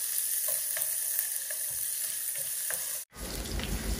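Green chili, onion and garlic with a little turmeric fry in a pan, a dense crackling sizzle with scattered pops, briefly cut off near the end before resuming loud and close.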